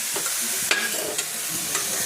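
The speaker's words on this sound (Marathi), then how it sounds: "दूध टाकलंय" Milk poured into a roasted mixture sizzling in a pan, with a continuous close, loud hiss, a few stirring scrapes and soft bubbling, and no voices.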